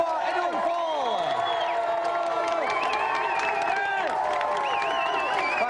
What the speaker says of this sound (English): Round of applause for Edo and Paul.